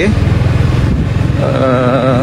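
A Yamaha XMAX 250cc scooter rides through a residential complex, its engine humming steadily, then rising in pitch with a wavering whine as it speeds up.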